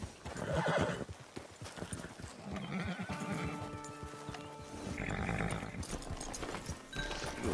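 Horse from Red Dead Redemption 2 whinnies loudly and clip-clops on hooves, the neigh near the start followed by steady hoofbeats within a busy game soundscape.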